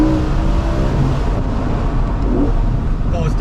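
A BMW E60 M5 V10 fitted with a carbon intake plenum roars loud and close as it downshifts, with a steady revving drone rising and falling; a voice talks over it.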